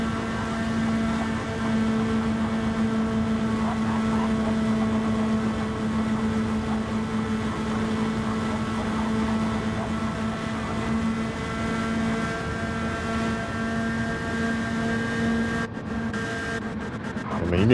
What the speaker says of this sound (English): Their engines are revving way longer.